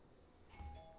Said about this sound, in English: That was my doorbell.